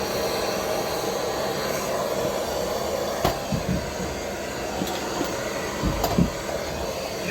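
Heat gun heating two seized wheel-bearing bolts on a 2005 Nissan X-Trail, a steady close broadband blowing hiss throughout with a few brief knocks and clicks in a garage.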